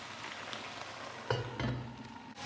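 Potatoes pan-frying uncovered in a pan, a soft continuous sizzle with a couple of louder bumps and crackles, close and fairly quiet.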